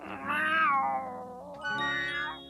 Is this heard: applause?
no